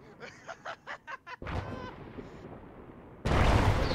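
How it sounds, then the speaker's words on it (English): Enemy artillery in a World War-style war video game set at the Battle of Long Tan: a string of short rhythmic bursts, then a sustained rumbling blast and a loud roaring impact that fills the end of the clip. "Enemy artillery, guys."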